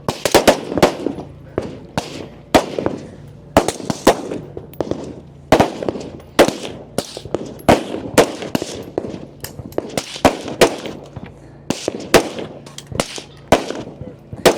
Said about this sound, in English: 15 shots with rifle, then they will move to their pistol and have 12 shots